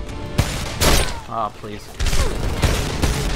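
Gunfire in the video game Homefront, several loud broadband bursts in quick succession with someone talking between and over the shots.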